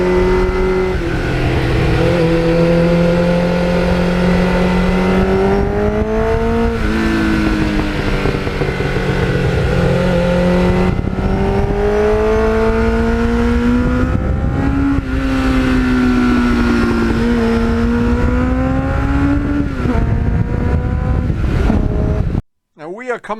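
A restored 1989 Kawasaki Ninja GPX750R motorcycle with about 40,000 miles runs loud and close, its engine note rising and falling through several rev swells before cutting off abruptly at the end.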